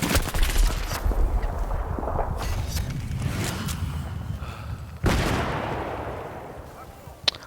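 Rapid AEK assault rifle fire in Battlefield 3, dense, loud and close, with bursts running almost without pause and a sharp new volley about two-thirds of the way through.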